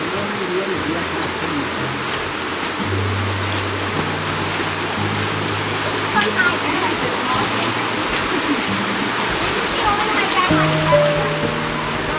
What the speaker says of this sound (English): I remember that little waterfall.